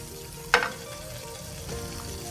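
Butter sizzles in a frying pan, first a sharp bright crackle as it hits the hot metal, then a softer steady frying hiss that carries on close by, no voices.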